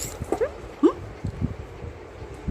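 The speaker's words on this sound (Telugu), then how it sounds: "చూడండి ఎలా ఉంది, క్యూట్ క్యూట్ పప్పీస్" Small puppies tussle and play, letting out a few short, high whimpers and yips close by over a quiet, low background hum.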